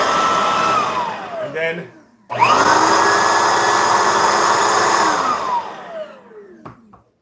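A bagged vacuum cleaner with two power levels whirs up loudly, stops briefly, then restarts into a steady high whine before winding down; a voice speaks briefly over it.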